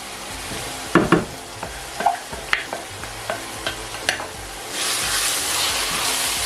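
Green chili pepper drops into oil and gets stirred in a stew pot for Nigerian ayamase stew, with a run of sharp spoon scrapes and knocks followed by a rising, steady sizzle near the close.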